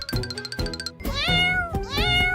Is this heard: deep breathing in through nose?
no